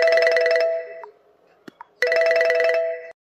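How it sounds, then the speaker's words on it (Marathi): A phone's ringtone plays in two loud bursts of repeated electronic melody separated by about a second of near-silence with a couple of faint clicks, with no talking over it. "आता झाबरूला कोणाचा फोन आला बा"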